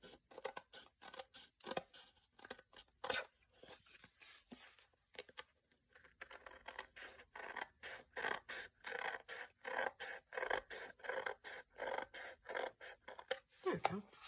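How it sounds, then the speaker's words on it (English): Scissors snip repeatedly through file folder paper, trimming the inside edges: a brisk series of close, crisp cuts with a brief pause midway, then a quicker run of snips. "To do a little bit of trimming on the inside"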